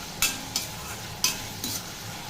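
Prawns fry in oil with a soft background sizzle, broken by four sharp scraping or stirring strokes of a spatula against the pan at uneven intervals, close by and without speech.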